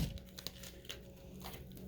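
Scissors snipping through cast padding on an arm, a few faint, brief crinkling cuts and tearing sounds, quiet and close.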